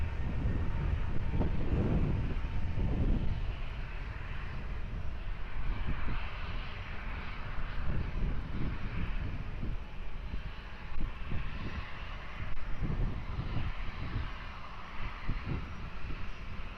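A jet airliner's engines roar close by at Lisbon Airport, a loud, sustained broadband rumble with surging swells that fills the whole stretch without any talk.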